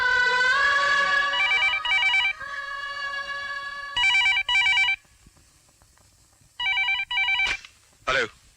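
A telephone rings in repeated electronic trilling bursts, loud and close, with pauses between rings and a brief sharper tone near the end; no talk over it.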